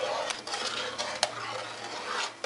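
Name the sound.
stirring caramel mixture in a pot over medium heat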